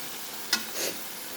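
Meat cooked with onions is sautéed in a pan: two brief scraping stirs over a faint, steady sizzle.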